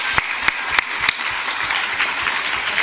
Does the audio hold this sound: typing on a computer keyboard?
no